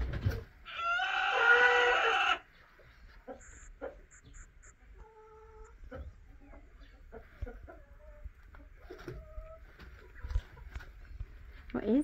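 A chicken clucks and a rooster-like call rings out near a pond where ducks are kept, a short burst of loud fowl noise followed by scattered softer clucks and background farmyard sounds.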